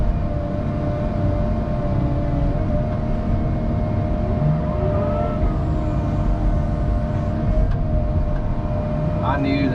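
A Cat 306 mini excavator moves material during swimming pool foundation prep, its diesel engine a steady, close, unbroken drone with a faint whine on top.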